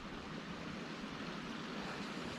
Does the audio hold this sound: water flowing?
yes